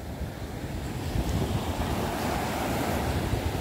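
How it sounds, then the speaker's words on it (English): Ocean surf rolls in at Kanangad Beach in Kerala, a steady low roar of breaking waves with wind buffeting the microphone, continuous and fairly close with no voices. "These waves are possible because of God"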